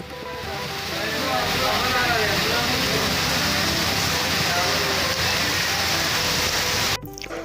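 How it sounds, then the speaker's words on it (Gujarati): Heavy rain pours down in Kheda, a dense, loud, continuous roar of water on surfaces that swells after the first second and stays steady, with a brief knock near the end. "વરસાદનો આપણે ઓરિજિનલ ઓડિયો અવાજ કેટલો વરસાદ ભારે પડે છે એનો અવાજ થોડો તમે સાંભળ્યો"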